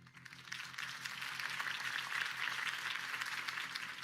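Crowd applause at a Harvey Dent campaign rally in the Batman: The Telltale Series video game, a dense wash of clapping that swells in after a moment and holds steady, with a low rhythmic hum underneath.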